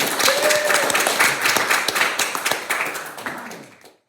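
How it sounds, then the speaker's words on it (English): Applause from a room of people after a talk at a small business spotlight event, dense clapping held steady for several seconds before fading out, with a few raised voices mixed in. "Can we give him a round of applause"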